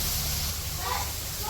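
Turmeric and chili powder spices fry in a pan of a simple village kitchen after a little water is splashed in, giving a steady, close hiss and sizzle that holds evenly throughout.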